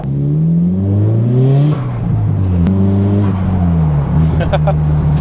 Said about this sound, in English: I'll start her up.